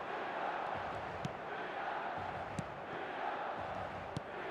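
A stadium crowd at the San Siro murmurs and roars steadily in the eFootball 25 video game, a distant, constant wash of noise with a few faint sharp clicks rising above it.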